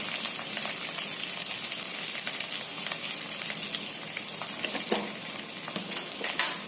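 Curry leaves, cumin, a generous amount of sesame seeds, coriander and asafoetida crackle in hot oil, a continuous busy sizzle scattered with small pops and spits, fairly quiet and close.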